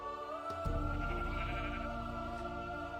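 Sheep bleat in Minecraft, a blocky sandbox game: a loud, wavering, nasal bleat sustained across a few seconds, close and clear with no talking.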